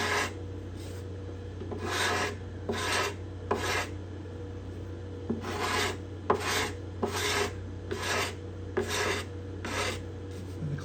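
A steel scraper rasps repeatedly across binding and purfling on a cedar guitar top, about a dozen steady back-and-forth strokes, close and crisp with short pauses between, over a low constant hum.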